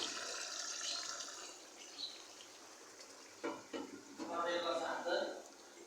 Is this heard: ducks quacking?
no